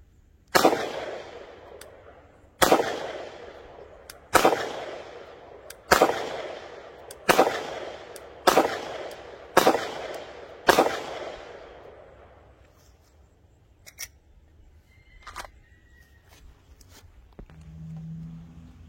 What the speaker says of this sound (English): Alright, a few shots with the Glock 48.